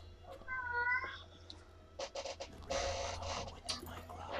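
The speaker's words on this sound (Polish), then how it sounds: "mój kot znowu się rozpłakał" A cat lets out one drawn-out meow, followed by a jumble of clattering and shuffling noises.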